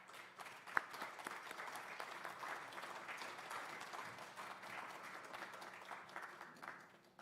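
Audience applause welcoming a speaker at a morning gathering, a steady, fairly faint wash of clapping that holds for several seconds with no one talking.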